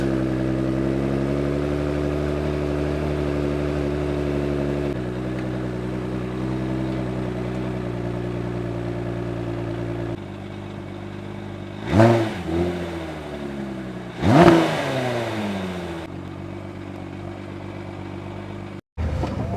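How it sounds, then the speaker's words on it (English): A Ford GT supercar engine drones steadily while driving, then rises in two loud, sharp revs with falling pitch sweeps as it shifts, close and dominant with no talk. "So people, let's start off driving the Ford GT"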